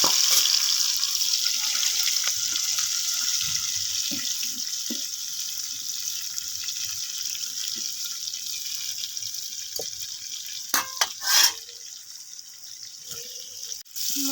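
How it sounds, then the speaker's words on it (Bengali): Marinated fish frying in hot oil in a pan. The sound is a steady, fairly soft hiss of sizzling oil with scattered small pops and a few sharper crackles near the end. "এখন প্রথমে তেলটা গরম করে নিলাম, তারপরে দিয়ে দেবো মেখে রাখা মাছ।"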